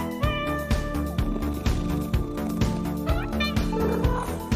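Song built from cat meows, with repeated meowing pitched to a bouncy melody over a steady thumping beat. Loud, continuous and rhythmic, with no talking over it.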